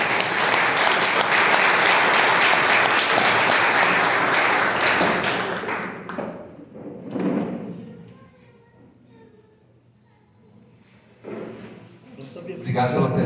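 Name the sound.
applause for a priest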